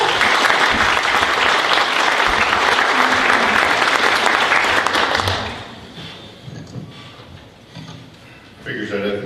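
An audience gives loud, sustained applause to welcome a councilman moderating a district debate, the clapping dense for several seconds before fading, then a voice speaks.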